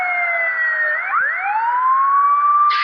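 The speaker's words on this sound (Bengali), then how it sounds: "সামনে আবার অ্যাম্বুলেন্স ডিস্টার্ব করা যাবে না, ওর গতিতে যাবে।" An ambulance siren in traffic, wailing loud and close with a steady rise-and-fall sweep that continues without a break, with no voices.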